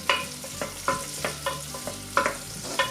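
Ginger and onions are sautéed in a pan, with a soft sizzle under a regular rhythm of spoon or spatula scrapes and stirs, close and fairly quiet.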